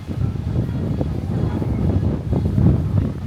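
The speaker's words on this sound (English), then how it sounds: "It is quite breezy up here if you didn't already know that." Steady low wind buffeting the microphone on the open top deck of the P&O Iona cruise ship at sea, a continuous rumbling gust with no voices.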